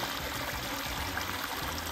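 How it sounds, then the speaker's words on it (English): Waterfall feature spilling into an integrated pool spa surrounded by travertine tile, a steady close splashing and trickling wash of water with no voices. "the pool and the integrated spa with this really cool waterfall feature"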